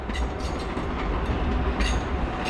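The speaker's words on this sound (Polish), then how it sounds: "Pociąg Fredro, Warszawa Wschodnia, Jelenia Góra" The Fredro passenger train, four second-class cars, rolls through Wrocław Główny station with a steady broadband rumble, lifted by a few brief brighter bursts of wheel and rail noise.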